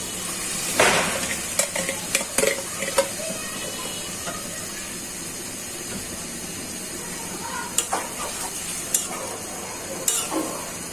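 Beaten sour yogurt cooking into an egg korma in a pan, a continuous sizzle and hiss with sharp clinks and scrapes of stirring at intervals.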